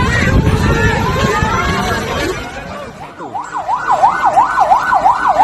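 An ambulance siren wails in a rapid rising-and-falling pattern, loud and close, emerging after a stretch of crowd chatter and background noise at a government office where a porch roof collapsed.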